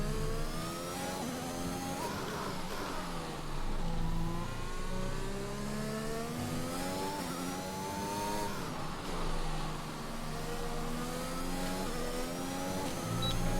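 An F1 car from F1 2021 driving out on track at the Hungarian GP, its high engine note climbing and falling through repeated upshifts and revs, loud and continuous throughout.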